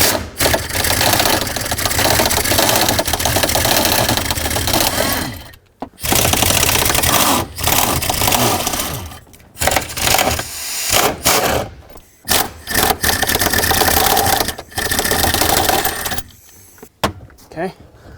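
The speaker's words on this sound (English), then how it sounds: "we can unbolt the steering column itself. Again, same tool, same location of the bolts or nuts." A tool working loose the steering column nuts on a 1997-2003 Ford F-150, heard as bursts of close mechanical whirring and clicking broken by short pauses, with no talking.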